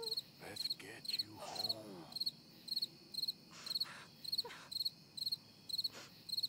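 Crickets chirp in a steady, repeating rhythm across a nighttime scene in the Red Dead Redemption 2 video game, with brief bursts of in-game voices and noises breaking in over the high, regular pulses.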